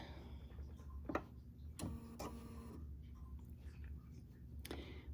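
A sewing machine stitches forward and back on a bag in short mechanical whirring runs with clicks between, faint and close over a low room hum.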